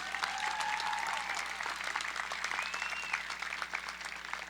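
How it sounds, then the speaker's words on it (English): A crowd at a high school graduation ceremony applauds steadily for several seconds, with scattered cheers and whistles rising above the clapping. "Let's have another round of applause for salutatorians and valedictorian speeches"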